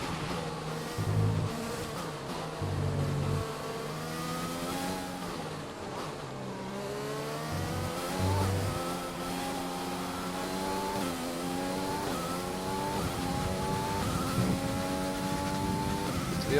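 Formula 1 engines in the racing game F1 2020 drone steadily at a career-mode race in France, their pitch rising and falling through gear changes as the cars run close together, continuous and fairly loud throughout.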